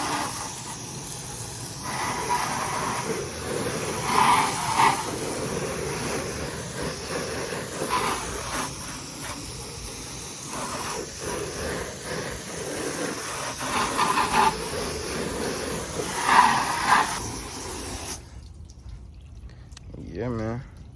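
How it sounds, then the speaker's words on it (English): Water hisses steadily from a hose as a car is rinsed down at close range, spray rising and falling for most of the stretch before cutting out to near silence, with a few faint drips at the end. "Alright, now we can rinse it off."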